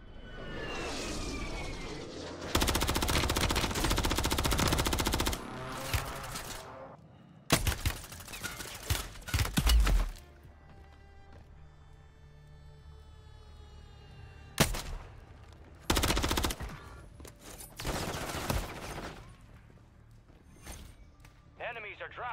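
Bursts of automatic gunfire from a Call of Duty Warzone match come in several loud, sustained volleys separated by quieter stretches, with players talking over parts of the action.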